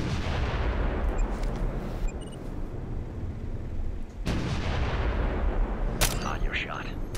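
Gunfire in the video game Ghost Recon Future Soldier, with a heavy booming shot opening the clip, another blast around the middle and a sharp crack near the end, over a constant low rumble.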